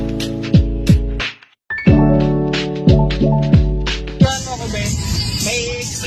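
Car exhaust note through a dual exhaust cut-out with a stock muffler, heard as several loud close revs rising and falling in quick succession, a brief drop to near silence, then more revs and a rougher sustained roar at the end.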